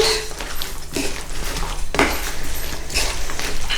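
Sweet potato and chickpea curry being stirred in a pot, with a spoon scraping and clinking against the sides in steady strokes, close and fairly loud, with no talking.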